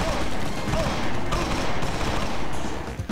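Gunfire in the shooter game XIII crackles in a dense, sustained burst of rapid shots, loud and continuous throughout.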